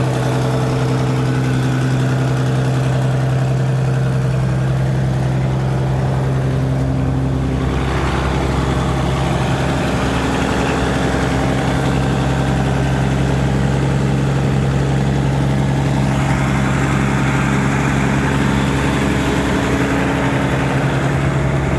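A Massey Ferguson 205 combine engine idles while warming up, a loud, steady low rumble with a constant hum and vibration throughout, close by and without talk.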